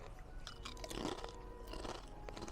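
Walkers Thai Sweet Chili Sensations crisps crunch up close as they are chewed, a steady series of crisp, brittle bites with no talk.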